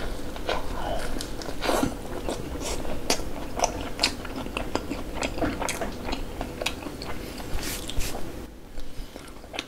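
Close, crisp biting and wet chewing of a large Mom's Touch Incredible chicken burger, with irregular crunchy bites and squishy mouth sounds throughout.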